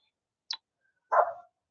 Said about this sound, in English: apologies for barking dogs and